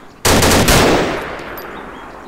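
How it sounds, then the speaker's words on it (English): A loud, close burst of gunfire in the survival video game DayZ hits suddenly, then rings out into a long echoing tail that fades over the following two seconds. "I'm shooting Stanek."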